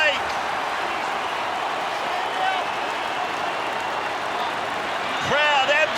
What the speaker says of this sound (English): Crowd absolutely thrilled by all of this.